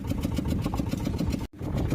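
A fishing boat's engine throbs steadily and close at sea, a continuous rough drone with a pulsing beat that cuts out for an instant before resuming.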